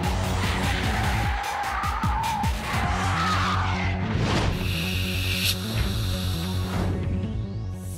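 A heavy Mercedes SL in Gran Turismo roars with a steady, loud engine drone while tires squeal and skid through corners, the engine note rising and shifting throughout.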